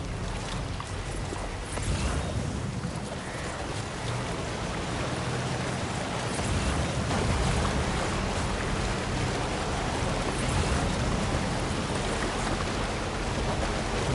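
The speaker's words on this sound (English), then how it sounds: "It's a lot of heavy rain." Heavy rain in Death Stranding 2 pours steadily as a dense, loud, unbroken hiss that fills the whole stretch, with no speech over it.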